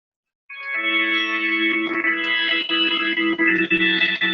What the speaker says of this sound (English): There's an organ in the chorus.